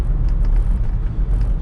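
A 2003 first-generation Smart car's remapped 0.7 litre three-cylinder engine runs with a steady, close, low rumble, with no pauses and no talk over it.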